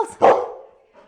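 A golden retriever gives a single sharp, close bark on command, followed by a brief faint whine.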